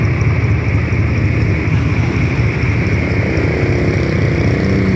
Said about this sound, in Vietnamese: Tiếng máy còn nổ luôn á,